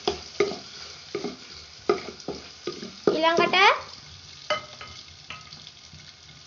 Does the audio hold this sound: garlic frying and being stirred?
yes